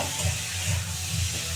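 Water poured into fried, oil-releasing spice paste for a thin Bengali fish curry with fritters sizzles and hisses steadily at close range, with faint pulsing bubbling underneath and no talk.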